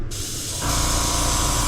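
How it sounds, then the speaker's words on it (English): Airbrush test-spraying black paint mixed with flow improver for a squarebill crankbait: a brief quiet lead-in, then a steady, close, loud airy hiss that continues without interruption, with no talking. "Let's just give her a quick test spray."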